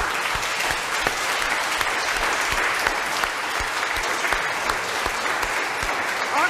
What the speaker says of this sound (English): We can applaud for each other.